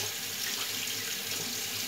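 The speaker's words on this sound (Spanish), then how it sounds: "Voy a lavar este pimiento" A kitchen tap runs steadily as a pepper is rinsed under it, giving a continuous close splashing hiss of water at moderate level with no talk.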